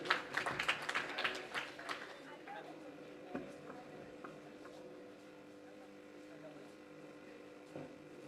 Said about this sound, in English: Please give a huge round of applause for SS'40.